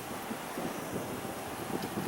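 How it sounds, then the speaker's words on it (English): Wind gusts across an open riverbank on a cold day, a steady rushing roar with slight buffeting that fills the whole stretch, with no voices. "It is windy and cold today"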